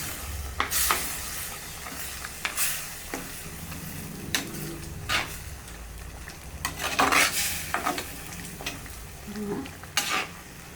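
A spoon stirs ground masala into a sizzling prawn gravy in a pan, with scraping strokes and clinks against the metal at an irregular rhythm over a steady soft frying hiss, close and moderately quiet.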